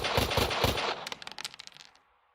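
Gunfire from the WW2 video game Valor & Victory, a dense burst of rapid machine-gun fire followed by a scattered run of sharper single shots tapering into silence.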